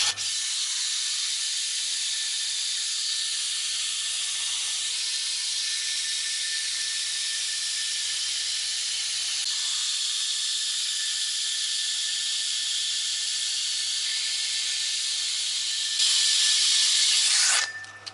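A cut piece of 36-grit 2x72 inch grinder belt rubs over metal by hand, giving a continuous loud, coarse hiss that stays steady and grows harsher near the end before stopping.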